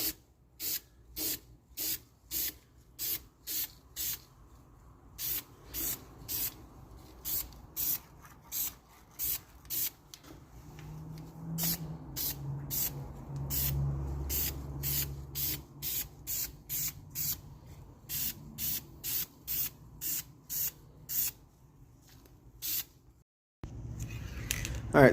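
A spray can laying a primer coat onto bare metal on a Honda Integra in short, regular hissing bursts, many in a row with brief gaps, close and crisp, with a low background hum and faint rubbing between passes.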